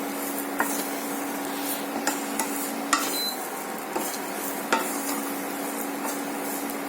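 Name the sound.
semolina being stirred and fried on low flame for laddu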